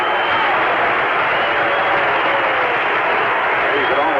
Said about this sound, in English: But Smith just listened to the crowd reaction.